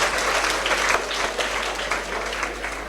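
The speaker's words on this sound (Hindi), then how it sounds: "एक बार जोरदार ताली बजा दीजिए क्योंकि अब कार्यक्रम शुरू होने वाला है।" Audience applause at a school event opening a student Sanskrit speech programme, a dense, steady wash of many hands clapping at once that holds for the full three seconds without any voices.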